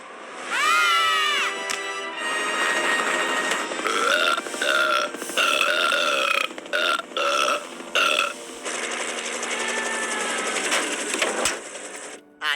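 Cartoon burping from The Simpsons characters, a string of long, loud, croaking belches in quick succession with brief gaps, some drawn out and warbling, filling the scene without talk.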